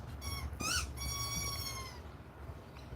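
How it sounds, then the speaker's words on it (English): A dog plays with a rubber screaming chicken toy somewhere in the background, squeezing out a few quick squeaky squeals and then a longer drawn-out shriek, faint and set against low room noise. "That's my dog playing with her screaming chicken."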